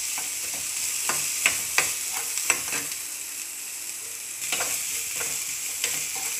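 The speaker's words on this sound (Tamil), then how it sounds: "கருவேப்பிலை, இந்த கேரட், துருவின கேரட்டு, இதை எல்லாத்தையும் போட்டு வதக்கிக்கலாம்" Curry leaves and grated carrot sauté in a pan with a bright, continuous sizzle broken by several sharp spatula taps and stirring clicks.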